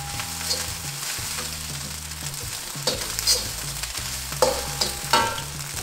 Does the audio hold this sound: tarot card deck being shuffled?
no